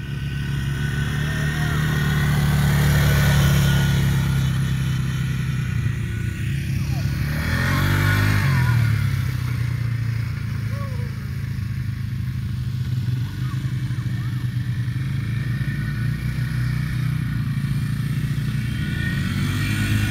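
Quad ATV riding in, its engine droning loud and continuous with a swell of revving partway through, with faint outdoor clatter and a little talk.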